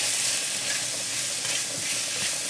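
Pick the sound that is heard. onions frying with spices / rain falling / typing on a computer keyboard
onions frying with spices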